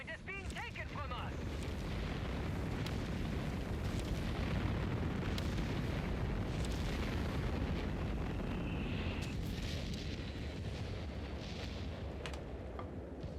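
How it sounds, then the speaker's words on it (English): Artillery fire in Company of Heroes 3 during a 4v4 match on the Oasis Depot map forms a continuous rumbling wash of booms and blasts. A commentator talks steadily over it. "Grant's under small amounts of artillery"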